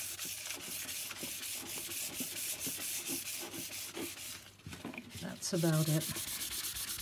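Sandpaper rubbing steadily over a cured resin layer, a continuous close, loud rasping scrub, with a brief spoken comment partway through.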